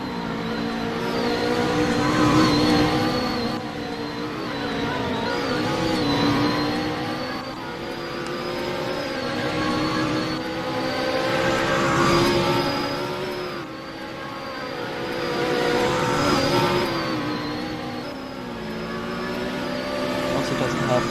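A twin-turbo V6 race car engine at a GT International race at Augusta Raceway, a loud continuous drone whose pitch climbs and dips through gear changes and corners, with a steady rush of broadband noise throughout.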